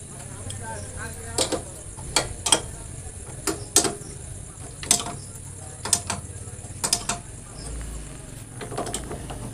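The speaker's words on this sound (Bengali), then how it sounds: "নাট দুটা ভালোভাবে দেখে শুনে সমানভাবে টাইট দিতে হবে" Jack nuts being tightened while a liner is fitted into a diesel engine give sharp metallic ratchet clicks in irregular bursts, close and crisp, with a person talking between them.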